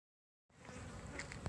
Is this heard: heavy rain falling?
no